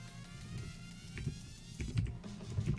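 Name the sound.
typing a console command on a computer keyboard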